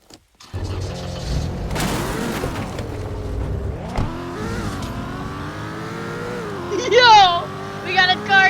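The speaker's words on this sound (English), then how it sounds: "We got a car chase going on." Game cars in a chase roar and rev, with engine pitch climbing and falling through gear shifts, plus a loud impact burst and squealing near the end, mixed under a talking voice.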